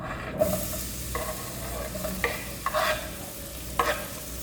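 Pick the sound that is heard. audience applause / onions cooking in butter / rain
onions cooking in butter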